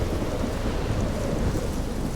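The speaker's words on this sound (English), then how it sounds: "this first part is really loud, but I guess because of the storm." A thunderstorm in Life is Strange sounds as steady heavy rain with deep rumbling thunder, loud and continuous with no voices.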